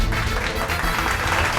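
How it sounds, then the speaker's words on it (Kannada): A studio audience claps steadily and densely for about a second and a half, welcoming a dancer onto the stage of a Kannada television show. "ಚಪ್ಪಾಳೆ ಮೂಲಕ ಅವ್ರನ್ನ ವೆಲ್ಕಮ್ ಮಾಡಿ"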